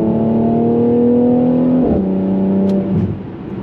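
A Mercedes C43 AMG coupe engine revs loudly up close with a steady droning growl, then its pitch drops sharply partway through before settling lower.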